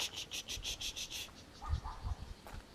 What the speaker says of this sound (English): Those are frogs.